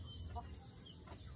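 Pet chickens on a farm in Laguna province give a few soft, brief clucks against a low steady background hum, faint and close.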